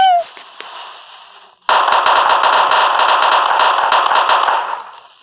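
Fireworks at a July 4 celebration: a brief whistling rise and a few pops, then a sudden dense, loud crackling barrage of rapid bursts that rattles on steadily for several seconds before tapering off.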